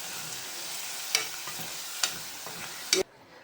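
Mung beans and asafoetida being stirred in a hot pan, a steady frying hiss with three sharp scrapes of the spoon against the pan, then a sudden drop to near quiet.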